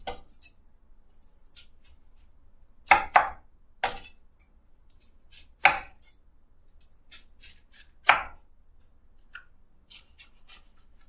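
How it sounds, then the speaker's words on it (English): Kitchen knife dicing a red onion on a cutting board, a handful of sharp, separate chopping strikes spaced apart, with soft scraping in between and no other noise. "So we got to dice up 1 red onion."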